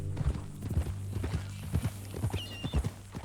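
Steady clip-clop of horse hooves at a walking pace in the video game Red Dead Redemption 2, close by, over a low sustained musical drone, with a faint high whinny near the end.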